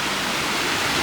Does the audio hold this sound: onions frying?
no